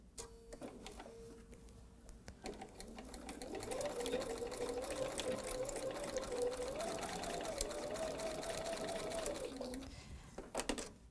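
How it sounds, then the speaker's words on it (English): A sewing machine straight stitches a seam on a patchwork pouch, a few soft clicks and handling noises giving way to a steady, moderately quiet motor hum that runs several seconds and stops. "we're just going to straight stitch over our drawn line"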